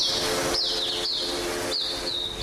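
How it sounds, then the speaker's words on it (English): Swinhoe's white-eye calling: three short, high, descending chirping phrases spaced about half a second apart, heard over a steady hiss of background noise. "These birds, including the swinhoe's white-eye, are locally known as the mata putih and are often valued for their beautiful call."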